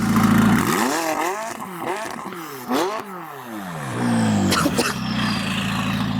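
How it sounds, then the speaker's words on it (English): A McLaren 570S with a custom exhaust revs repeatedly and loudly, with several rising and falling engine sweeps followed by a sustained roar and a sharp crackle. "that is the sound of the 570S. Custom exhaust."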